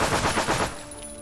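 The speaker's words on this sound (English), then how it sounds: "Do not stand in front of a machine gun when it goes off" A rapid burst of machine gun fire from a WW2 strategy game, Forgotten but Unbroken: dense, loud rattling shots for about half a second before dropping off into quiet.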